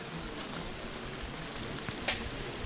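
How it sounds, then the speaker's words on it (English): Heavy rain pours down during a boat race. It makes a dense, steady hiss of falling water, close and continuous, with one brief louder spatter near the end. "The rain is pouring down."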